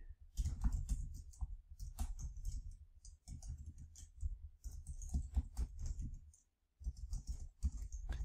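Clattering keystrokes on a computer keyboard, quick irregular bursts of typing with a brief pause near the end, close and fairly quiet.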